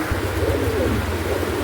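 A male Afshan grizzle pigeon coos in low, throaty, rolling calls close by, repeated over a soft background murmur.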